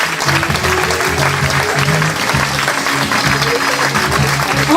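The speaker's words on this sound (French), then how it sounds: "On peut l'applaudir." An audience at a 2017 staff day event gives sustained, even applause, a thick continuous patter of many hands clapping at close range.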